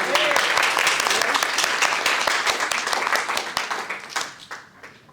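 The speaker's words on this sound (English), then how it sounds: "let's give it a round of applause" An audience at a medical-legal experts conference bursts into dense, loud applause that holds steady, then thins and fades toward the end, with a few scattered claps and faint voices in the room.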